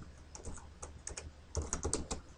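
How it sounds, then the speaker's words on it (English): Computer keyboard keys are pressed nearby in a quiet room, with a string of crisp, irregular clicks and a cluster of heavier taps near the end. "and then I just simply pressed enter and enter again"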